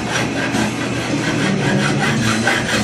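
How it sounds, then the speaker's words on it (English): A regular steel file rasps along the edges of steel guitar frets during a refret, taking off the bulk for the bevel. Steady, close, continuous scraping strokes with no talking. "take just a regular steel file, and we're going to use this to get the bulk of the edge off these frets"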